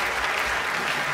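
Audience applause at a festival talk with a scientist: steady, dense clapping from a large crowd, continuous and fairly loud throughout the short burst.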